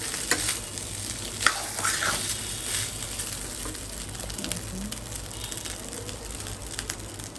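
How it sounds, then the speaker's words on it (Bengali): Leftover biryani is reheated and stirred in a pan, a continuous close sizzle with scraping spatula strokes and occasional clinks, no talking. "বৌদিরা দুপুর বিরিয়ানি দিছিল, এটার মধ্যে একটু গরম করতেছি"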